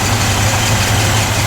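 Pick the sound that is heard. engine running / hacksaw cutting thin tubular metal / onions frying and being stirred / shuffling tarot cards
engine running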